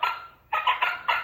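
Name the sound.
turkey gobbling, from a children's farm animal sound book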